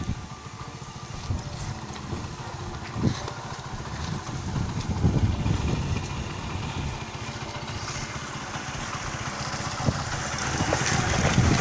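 A motorbike engine runs steadily outdoors, its rear tyre rigged as a machine for separating peanuts from the plants, with a rough mechanical rumble that rises toward the end.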